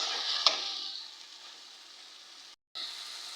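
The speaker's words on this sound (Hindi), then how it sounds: "अब बाकी की कसर हम इसकी मसालों के साथ भुनाई करके निकालते हैं।" Onions and tomatoes with spices frying in a pan for bhindi masala, a steady soft sizzle with a brief sharp crackle early on and a momentary drop to silence near the end.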